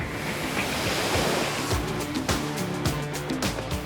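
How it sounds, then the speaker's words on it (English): Big ocean swell breaking as surf along the Sydney coast, a continuous loud roar of crashing waves with some wind rumble, close and steady throughout with no voices. "Sydney's coast has been rocked by a massive swell, closing most of the beaches."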